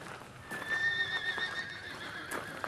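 Horses whinny in a farm stable setting, a shrill drawn-out neigh rising over soft hoof shuffling and stable noise, fairly close and moderately loud with no talking.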